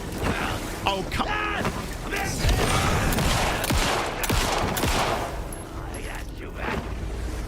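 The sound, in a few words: gunfire from video game Alan Wake 2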